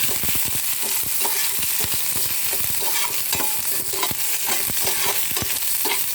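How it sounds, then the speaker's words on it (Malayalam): Ginger and curry leaves fry in a pan for a pickle, with a constant sizzle under quick, repeated scrapes and clicks of a spoon stirring close by. "ഇഞ്ചി വെളുപ്പില എല്ലാം കൂടി ഞാൻ ഒരുമിച്ച് കൊടുക്കുകയാണ് നമുക്ക് ഇളക്കി കൊടുക്കാം"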